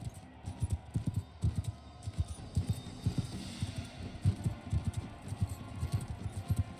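Horses' hooves in War Sails Viking, a rapid, irregular clip-clop of several hooves thudding close by and fairly loud, continuing throughout without speech.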